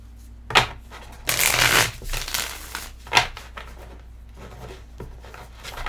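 Tarot cards being shuffled and riffled close by, a few crisp snaps and a longer papery flurry, fairly quiet with no voices.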